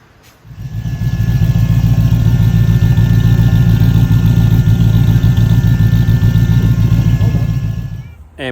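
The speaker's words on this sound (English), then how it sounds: "I hope you all like the exhaust there." Toyota Hilux fitted with an LS1 V8 and custom exhaust idling close by, a loud, steady low rumble with a lumpy burble that starts after a brief pause and cuts off near the end.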